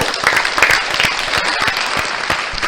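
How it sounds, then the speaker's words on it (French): Applause for Khadija on a music show, a loud close burst of crowd clapping with scattered sharp claps running throughout, no voices over it. "Les applaudissements pour Khadija à la maison."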